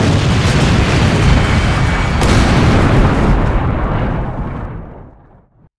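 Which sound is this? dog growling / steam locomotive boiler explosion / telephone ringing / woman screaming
steam locomotive boiler explosion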